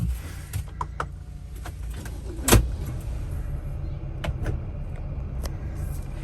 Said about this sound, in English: So I'm gonna lock the door, unlock the door, just basically reset everything.